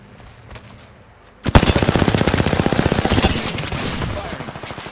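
Rapid automatic gunfire in Apex Legends breaks out suddenly and keeps up as a loud, steady stream of close shots for several seconds, easing slightly toward the end.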